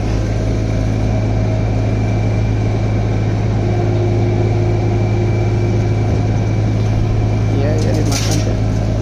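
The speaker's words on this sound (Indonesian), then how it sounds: "ini ada mesin itu agak berisik." A fairly noisy engine runs nearby, giving a steady low droning hum with tonal overtones that holds evenly for the whole stretch, with a brief higher rattle near the end.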